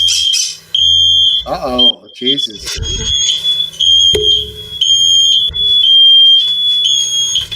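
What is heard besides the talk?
fire alarm beeping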